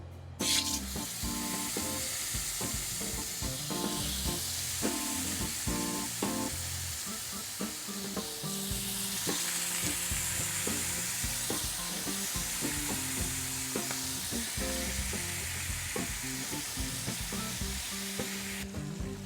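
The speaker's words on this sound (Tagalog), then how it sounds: "Next natin ay i-pan-fry natin yung manok." Chicken pieces pan-frying in hot oil over high heat: a steady, close, dense sizzle and crackle that holds throughout, with scattered clinks of a utensil or pan.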